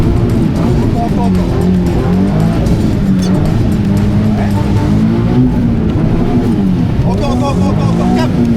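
A car engine revs under repeated throttle on a track, its loud note rising and falling in waves with tire noise mixed in, while people talk over it.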